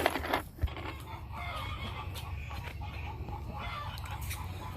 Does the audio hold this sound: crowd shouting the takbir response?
no